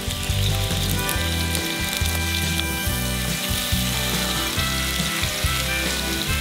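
Chicken frying in olive oil in a pan on a stove, a loud, continuous sizzle with crackling pops and a rhythmic low clatter throughout.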